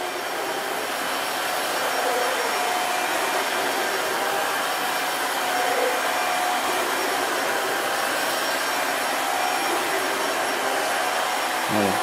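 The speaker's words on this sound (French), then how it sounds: "On entend bien l'eau qui est aspirée." Dreame H11 Max wet floor cleaner sucking up water as it passes over a floor, a steady close motor whine with broadband suction hiss that holds at an even level for the whole stretch, no voices.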